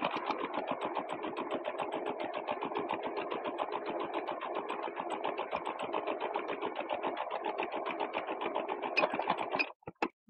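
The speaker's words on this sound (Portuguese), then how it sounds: "E vai passar então uma costurinha na beiradinha." A sewing machine stitches along a fabric edge in a fast, even run of needle strokes for about ten seconds before stopping, close and moderately loud with no talking over it.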